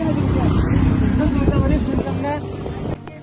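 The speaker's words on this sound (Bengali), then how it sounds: "আর এটা হচ্ছে মোটর চালিত নৌকা আর কি, অনেক শব্দ করে" A motor-powered boat engine drones loudly and close, a steady rumbling hum with wind buffeting the microphone, dropping slightly in level toward the end.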